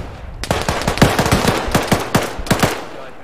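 Rapid automatic gunfire in the military shooter Arma 3, a sustained string of sharp, close bursts of shots with little pause, loud and dominant with no talking.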